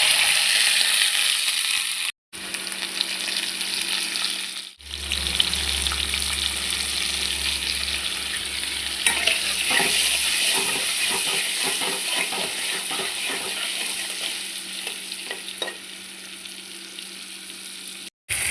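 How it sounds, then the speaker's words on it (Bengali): Potatoes fry in a little oil with five-spice in a kadai, making a loud, steady sizzle close by. Stirring scrapes and taps come through in the middle stretch, with a low hum beneath for part of it. "এখন কড়াইতে একটু সামান্য তেল দিয়ে 5 ফোড়ন সমান দিয়ে আর একটু আলুগুলোকে ভেজে নেব।"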